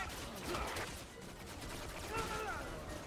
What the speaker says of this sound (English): There's a lot of shit shooting at me.